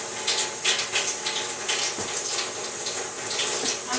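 Tap water runs steadily into a sink while hands and arms are wetted up to the elbows for a midwifery hand-washing procedure, a close, continuous splashing hiss with soft irregular splatters and a small knock.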